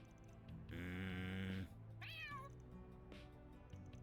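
A cat meows in the video game Trails Through Daybreak 2, one long drawn-out call followed by a shorter rising-falling meow. Both are close and clear over a soft game background, with no talk.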